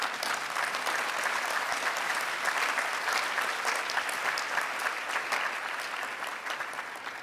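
An audience claps steadily at a trade report launch, a dense, even wash of applause that fades slightly toward the end, with no talking over it.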